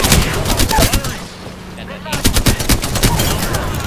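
Rapid automatic gunfire from a shooter video game during a shield fight, loud and continuous bursts that pause briefly mid-clip then resume, with game sounds and some voice underneath.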